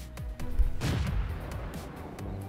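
Tank cannon shots in the World of Tanks video game, a booming report near the start followed by another heavy blast and rumbling battle noise, with no talking over it.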